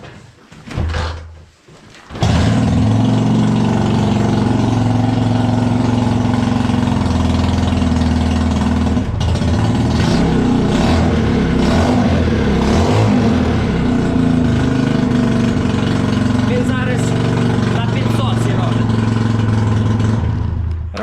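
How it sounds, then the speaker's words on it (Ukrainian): A Chinese chopper motorcycle, its carburetor just cleaned, idles after a cold start following winter storage: a brief sound at first, then a loud, close, steady low engine drone runs unbroken to the end. "Але мотоцикл заводиться добре, ускорительний насос качає."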